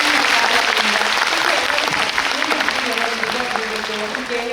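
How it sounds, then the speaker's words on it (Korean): Audience applause at the Busan International Film Festival Q&A for the film Next Sohee, steady dense clapping from a large crowd filling the room throughout, loud and close. "다음소희 팀에게 같이 박수 치면서 이 자리를 마치도록 하겠습니다"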